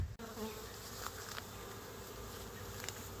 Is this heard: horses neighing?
no